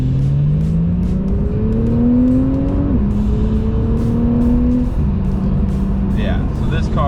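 A Porsche sports car accelerates hard on a freeway, its engine note climbing steadily through several upshifts with brief dips between gears, loud and close from inside the cabin; no one speaks.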